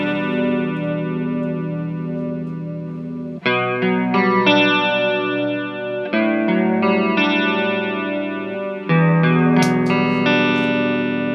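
Electric guitar chords played through a Movall Choral Mermaid chorus pedal, sustained and shimmering with a gentle swirling wobble, several chord changes ringing out loud and clear, with no voices.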